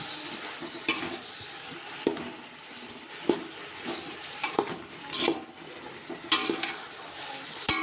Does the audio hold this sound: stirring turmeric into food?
yes